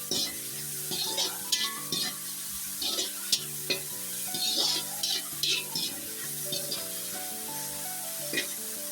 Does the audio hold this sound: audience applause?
no